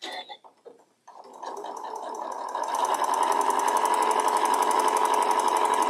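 Sewing machine chain-piecing quilt block pieces, starting after a brief pause and quickly rising to a close, steady, fast mechanical whir that holds to the end.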